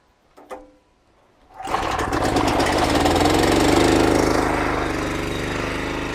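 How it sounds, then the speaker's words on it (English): Gasoline pressure washer engine starts after a brief knock and quiet moment, then roars loudly and steadily close by, running on continuously, no talking. "Don't tell me I need to find Dad to get help to start a pressure washer."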